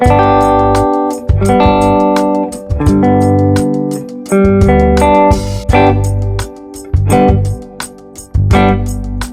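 Guitar strumming short triad chord shapes, each struck chord ringing briefly before the next, in a loose rhythm with brief gaps between phrases.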